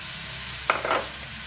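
Pork belly sizzling steadily in its own rendered fat as fish sauce is poured in, giving a brief louder hiss and splash partway through.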